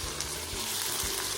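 Sliced onions and cumin seeds frying in hot oil in a pan, a continuous close hissing sizzle with soft crackles, steady and moderately loud.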